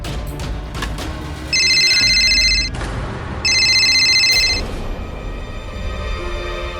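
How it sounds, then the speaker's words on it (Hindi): A mobile phone rings in two electronic ringtone bursts separated by a pause, over a busy background of music and ambient noise. "इसीलिए आपके मोबाइल में बार बार किसी और का कॉल आ रहा है"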